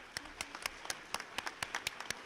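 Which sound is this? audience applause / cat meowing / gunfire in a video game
audience applause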